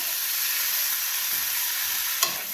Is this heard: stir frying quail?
yes